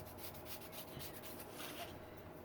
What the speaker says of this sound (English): I'm just going to use a nail file, and I want to lightly scuff up my little strips